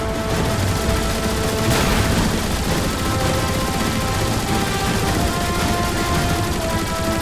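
Rockets firing in the video game Transformers: War for Cybertron, a dense, loud, continuous barrage of blasts and explosions with no pause across the whole stretch.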